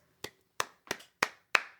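Single person clapping alone, five sharp distinct claps spaced roughly a third of a second apart in a dry quiet setting, each with a short ringing tail.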